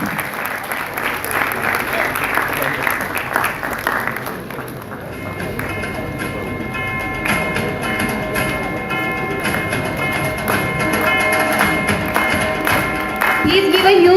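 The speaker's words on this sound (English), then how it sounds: "Please give a huge round of applause" Audience applause at an annual college prize distribution ceremony, a sustained wash of many hands clapping that runs loud and steady, with a brief dip partway through.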